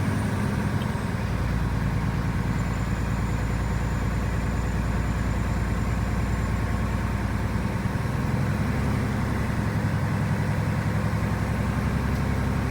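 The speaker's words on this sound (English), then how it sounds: "Now we're going to build up air pressure and we're going to rev it up between 10 and 15 RPMs right there" A truck engine runs with a steady, loud low rumble for air brake pressure build-up during a cab and air brake inspection, holding a constant raised idle without clear rev swells, heard close and alone.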